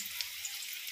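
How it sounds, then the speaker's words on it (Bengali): Soft, faint sizzle of gram flour batter fritters with chopped greens frying in hot oil, a quiet steady crackle with small pops. "ভাজা শুরু হয়ে গেছে"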